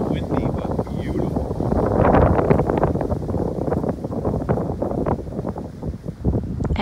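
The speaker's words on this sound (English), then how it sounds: "A little windy, but beautiful." Wind blows outdoors on a bright day, buffeting the microphone in a continuous, gusty rumble that swells and eases throughout.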